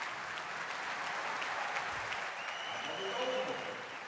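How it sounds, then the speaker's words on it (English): Crowd at a Rotterdam indoor tennis tournament applauding a player, a broad, steady wash of clapping at moderate distance with faint background tones and occasional murmurs. "The crowd appreciate Baghdatis."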